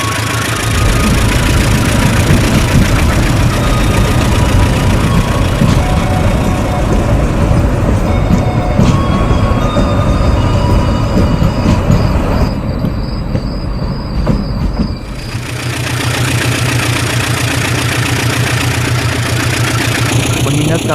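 An old locomotive-hauled train runs steadily on its route, with a loud continuous rumble, rattling wagons and occasional high wheel squeals, then a sharp change in tone about three-quarters of the way through.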